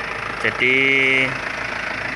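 An Isuzu Elf minibus engine idles steadily up close after a hill climb, a smooth low drone with a brief rise near the start, while a voice speaks a word over it.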